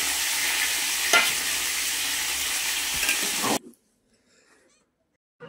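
Potatoes fry and get stirred in a pan for vegetable khichuri, a steady loud sizzle with scraping that cuts off abruptly into near silence.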